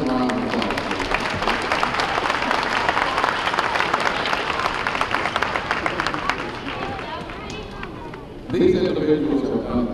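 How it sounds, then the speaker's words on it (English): A large high school awards audience applauds its faculty and staff, a dense sustained roar of many hands clapping with crowd murmur, easing slightly before a voice cuts in near the end. "Let's give them a round of applause."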